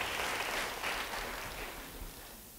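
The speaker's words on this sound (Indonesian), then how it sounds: "Beri tepuk tangan bagi dia." A church congregation claps together, a broad, fairly loud patter of many hands that eases slightly toward the end, with no speech over it.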